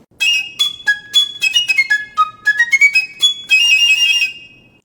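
A breathy flute melody of short notes leaping sharply up and down in pitch by large intervals, played alone with small gaps between phrases.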